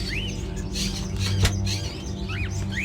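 Birds in a room full of cages in the video game Indigo Prophecy chirp and tweet in short, scattered calls over a low steady hum, fairly faint and close, with no talking.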